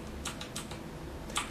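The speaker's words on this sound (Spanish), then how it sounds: "Nos movemos con las teclas, con las flechas del teclado" Computer keyboard arrow keys are pressed in a handful of quick, light clicks, close and fairly quiet, with no talking.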